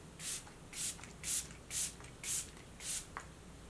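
Six short hissing sprays from a Rare Beauty setting spray pump bottle, evenly spaced about half a second apart, close and fairly loud against quiet background.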